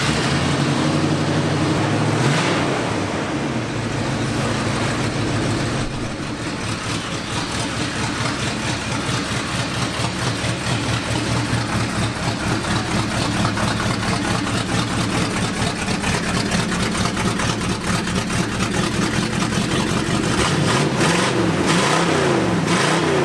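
An abandoned Oldsmobile Cutlass muscle car, back after 33 years in storage, runs rough and loud and close, idling unevenly with a steady throbbing pulse and repeated revs, and nobody talks over it.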